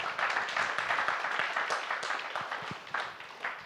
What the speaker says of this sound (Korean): 네, 일단 박수 한번 하시고